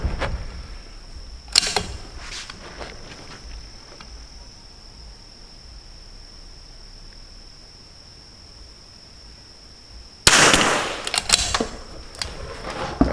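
Two sharp rifle shots fired at a target outdoors, roughly nine seconds apart, each a loud crack with a short ringing tail, over a steady high chirp of crickets.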